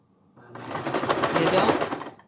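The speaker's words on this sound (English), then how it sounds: "I'm just going to sew it at 3/8." Sewing machine stitching a bake-even cake strip with a 3/8 seam, steady motor whir and rapid needle chatter starting after a short pause and running continuously close by.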